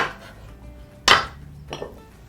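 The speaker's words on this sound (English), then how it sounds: "proceed to slice about 4 rings worth of your onion rings." A knife cuts thin rings from an onion on a cutting board, making two sharp clicking chops about half a second apart against a quiet background.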